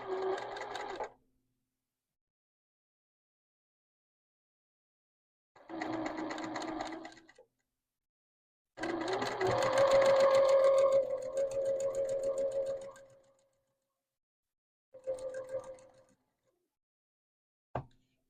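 A sewing machine stitches a quarter-inch seam on quilting fabric in four separate bursts of rapid, steady whirring, each a second or up to four seconds long, with silent pauses between them and a faint click at the end.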